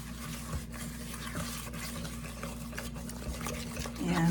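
Batter being stirred in a bowl, a run of soft scraping and wet sloshing strokes over a low steady hum, fairly close and moderately quiet.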